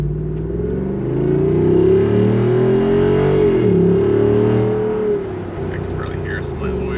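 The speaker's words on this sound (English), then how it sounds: "I think everyone can hear this thing a mile away." A 2021 Jeep Wrangler Rubicon 392 V8 accelerates hard from inside the cabin, a loud deep engine drone rising in pitch, dipping briefly at a shift, then settling into a lower rumble.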